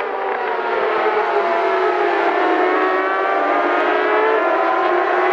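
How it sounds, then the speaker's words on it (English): Yamaha R6 race motorcycles of the MTM RT Motorsport team lapping a circuit, their engines a loud, steady, high-pitched scream that holds without a break throughout. "So Jed Metcher riding number 3 on another of the MTM RT Motorsport team Yamaha R6s has burst through into 2nd place"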